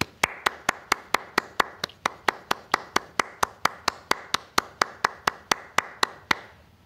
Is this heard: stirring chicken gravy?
no